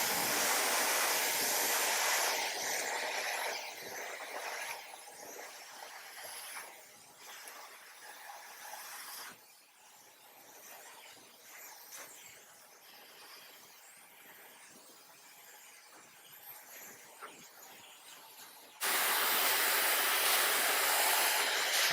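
Hair dryer blowing hair during a barbershop mullet cut, a loud steady whoosh that drops to a quieter muffled airflow partway through, then returns at full strength near the end.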